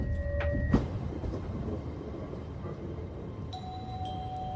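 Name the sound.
train arriving at a platform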